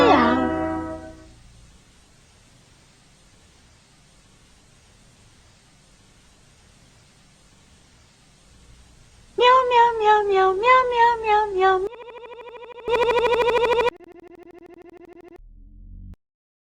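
Cats meow in a run of rising, wavering cries, loud and close, after a long stretch of low hiss, followed by flat electronic tones.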